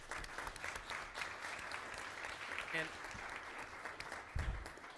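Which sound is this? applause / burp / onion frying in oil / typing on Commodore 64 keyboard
applause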